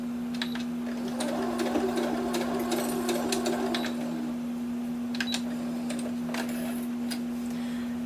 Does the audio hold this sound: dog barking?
no